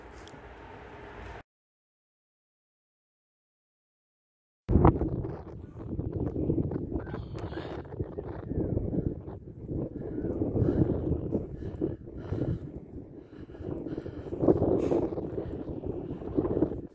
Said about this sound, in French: J'espère que vous m'entendez parce qu'il y a du vent.